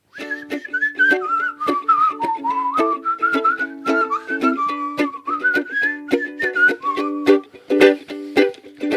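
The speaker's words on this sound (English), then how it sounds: "I'll whistle something over the top of that, I think." Someone whistles a wavering melody over a steady strummed accompaniment with regular percussive hits, close and fairly loud.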